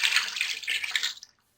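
Water from a jug is poured into a pressure cooker holding wheat and rice for mutton khichra, a close, steady splashing gush that stops abruptly after about a second.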